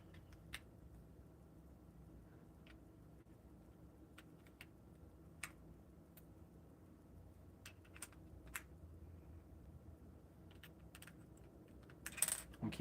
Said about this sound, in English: the other sound tests were just as good on this keyboard